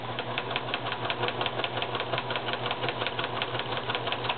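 A sewing machine stitching through the middle of a small fabric book, a fast steady mechanical whir with evenly repeating needle thumps, close and continuous.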